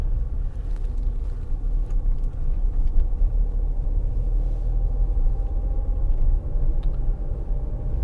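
Tata Punch AMT held in third gear while climbing an incline, its engine producing a steady low drone and road rumble heard from inside the cabin, continuous and fairly loud with no talk.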